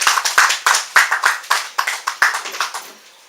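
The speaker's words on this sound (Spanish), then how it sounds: "Pido un aplauso para el compañero" Sparse clapping from a small audience at a book presentation in a bookshop, a few hands striking in an uneven rhythm that thins out and fades over about three seconds.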